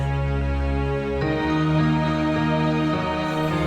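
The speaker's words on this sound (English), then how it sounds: "I needed some cellos, and basically this sounds like" Cellos in an orchestral arrangement of a song play sustained, rich bowed notes that shift to a new chord partway through, loud and alone.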